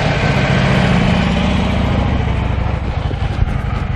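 A new 2012 Harley-Davidson FLD Dyna Switchback V-twin idles loud and close, a steady low rumbling throb that loosens into a slightly uneven lope toward the end, with no talking.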